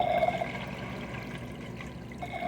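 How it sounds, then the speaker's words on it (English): Steady running water from an AquaClear aquarium filter with a surface skimmer attached, a continuous close splashing trickle as the flow spills back into the tank, with no voices. "I like aquaclear filters, man. I like the sound of the water."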